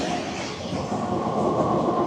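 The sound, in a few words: tram departing in Odesa street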